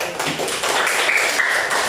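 Classroom applause for a student group after their presentation: dense, continuous clapping from many hands for about two seconds, loud and close, with no talk over it.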